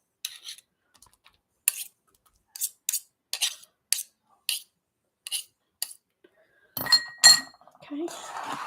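A spoon clinks sharply against a bowl while a pineapple cheese ball mixture is stirred, giving a series of separate close taps at irregular intervals, then heavier clattering and scraping near the end.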